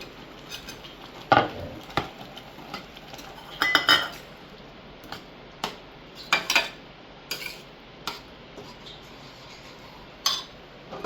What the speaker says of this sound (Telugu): ఇప్పుడు మనం కట్ చేసి పెట్టుకున్న పన్నీర్ ముక్కలు ఇందులో వేయాలి